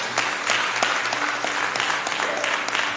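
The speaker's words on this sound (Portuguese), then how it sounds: "Aplauda o Senhor por isso." A church congregation applauds together, a steady wash of many hands clapping that fills the whole moment without letup.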